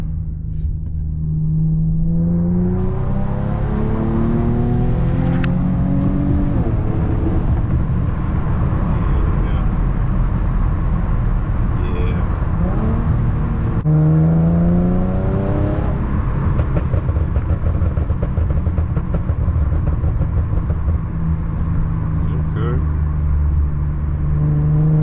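An Infiniti G37 fitted with a 1320 Y pipe idles and revs repeatedly, a loud continuous exhaust rumble with rising and falling rev sweeps, with someone talking over it at times.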